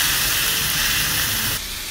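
Shell-on shrimp frying in oil in a pan give a loud, continuous sizzling hiss up close, dropping a little in level near the end.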